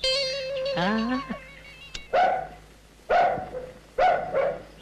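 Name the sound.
dog barking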